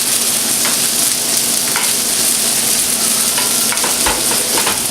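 Okra fries in a hot pan with a dense, bright, continuous sizzle, broken by occasional scrapes and taps as it is stirred, close and loud with no voices.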